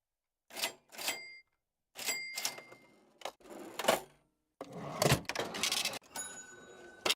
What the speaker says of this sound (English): Let's try the cash register.